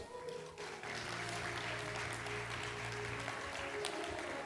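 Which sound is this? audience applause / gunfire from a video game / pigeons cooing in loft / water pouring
audience applause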